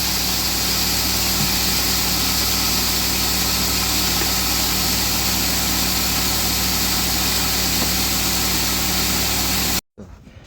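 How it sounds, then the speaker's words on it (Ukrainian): A feed mixer on a small pig farm runs steadily while pig starter compound feed is prepared, a loud continuous mechanical drone with a constant hum, cutting off abruptly near the end. "А так у нас працює міксер."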